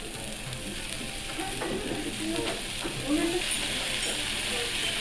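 Okonomiyaki ingredients stir-frying on an oiled hot plate give off a steady, close sizzle, with brief scraping and stirring sounds rising over it throughout.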